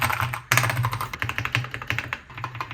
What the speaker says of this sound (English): rest assured that keys using magnetic switches do still make a sound.